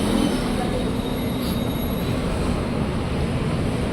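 Steady rumbling of a KRL commuter train in motion between Depok and Bogor, Indonesia, a constant low roar of wheels on track with faint high squeals.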